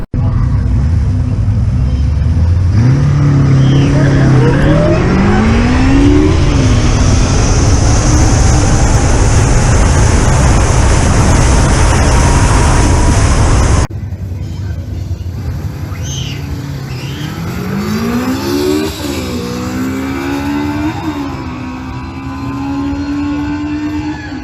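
A Zero FX electric motorcycle accelerating hard on the road: loud, steady wind roar with a rising electric motor whine that climbs in pitch several times, close and continuous.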